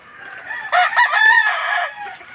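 A fighting cock on a gamecock farm gives one loud, clear crow at close range, rising then holding and trailing off.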